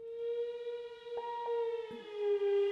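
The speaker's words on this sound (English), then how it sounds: "one of the more effect-like presets that Ed Egan created" A sustained, rising synthesizer tone from an effect-like EaganMatrix preset on a Haken Continuum, siren-like with bright overtones and brief glitchy blips partway through.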